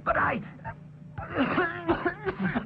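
A short, throaty cough or throat-clearing comes first, then a pause, followed by a voice speaking up close.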